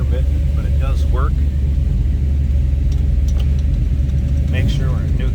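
A 1970 Chevrolet Nova engine idling after a cold start, a loud, steady low rumble close by, with someone talking over it in places.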